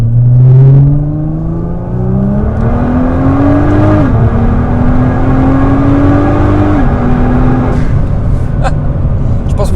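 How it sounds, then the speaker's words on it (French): Nissan GT-R R35 from 2010 with its 3.8-litre VR38DETT twin-turbo V6, loud and close from inside the car, rising through the gears with pitch climbing and dropping at shifts, and a brief sharp hiss of the dump valve near the end. "Je pense que vous avez entendu la down valve"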